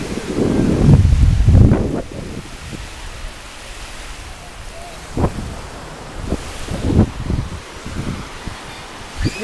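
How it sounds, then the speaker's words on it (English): Wind buffets the microphone in heavy low rumbles while waves wash in and out on a beach, surging in several loud swells. "We are at the beach."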